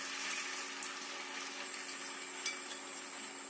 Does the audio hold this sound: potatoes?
yes